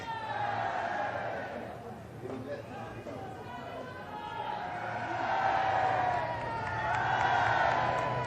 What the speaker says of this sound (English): the cheering continues